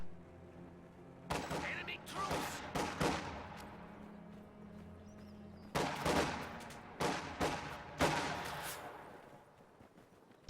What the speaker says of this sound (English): Taking anti-personnel fire!